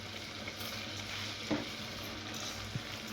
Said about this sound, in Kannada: ನಾನು ಅಕ್ಕಿ ತೊಳ್ಕೊಂಬಂದೀನಿ ಈಗ ಇದಕ್ಕೆ ಹಾಕೊಂಬಿಡಲ್ರಿ